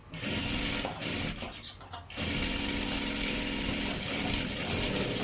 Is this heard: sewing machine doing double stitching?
yes